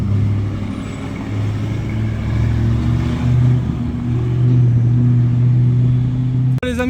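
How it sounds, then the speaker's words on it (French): A Lamborghini Urus Mansory rumbles low and loud nearby in a street in Cannes, its engine note swelling and droning steadily with a deep, sustained growl. "Urus Mansory les amis. Celui-là il fait un boucan"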